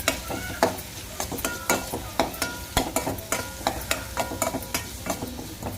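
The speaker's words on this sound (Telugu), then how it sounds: "మనం ఎప్పుడు తిప్పుతూనే ఉండాలి గరిట అసలు ఆపకూడదు" A ladle stirs a tamarind-style curry (maggiga charu) in a pot, giving rhythmic scraping clacks roughly twice a second over a gentle sizzle, close and steady with no speech.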